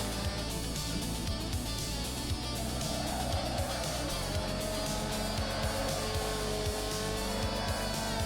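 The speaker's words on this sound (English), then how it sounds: "The MX-5 just bogging down." Mazda MX-5 engine in a racing video game bogging down, a steady low drone with faint tyre noise running throughout at moderate level, with some talk over it.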